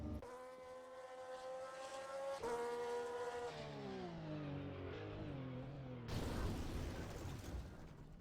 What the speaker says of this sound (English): There comes the car, another Porsche.